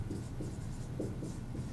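A marker or chalk writes on a classroom board, giving short rhythmic scratching strokes at close range with no talk.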